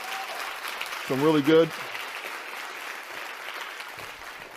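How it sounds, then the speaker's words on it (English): Applause from a keynote audience for military members, a broad steady wash of clapping throughout, moderately loud, with a brief spoken phrase near the start. "give our military folks a round of applause"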